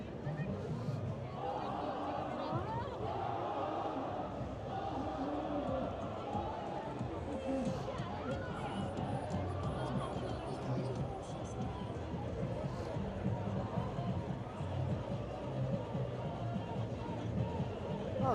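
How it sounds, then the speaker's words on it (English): Dense crowd at Yonge-Dundas on Christmas night, a continuous hubbub of many voices and footsteps at moderate distance, steady throughout without standout sounds. "There's actually huge crowds."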